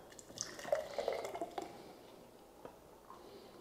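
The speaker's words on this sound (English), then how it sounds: "let me pour it in a glass" A blended smoothie poured from a BlendJet portable blender into a glass, giving a brief run of faint wet drips and thick liquid splashes that quickly fade, followed by a near-silent pause with a single soft drip.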